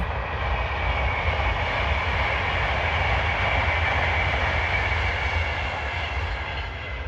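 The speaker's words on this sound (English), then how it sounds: "There's a train coming." A train rumbles steadily past a canal towpath, a loud continuous roar with no break.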